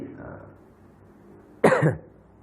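A single sharp cough from a speaker giving a mosque lecture bursts out loudly after a moment of faint, quiet murmuring.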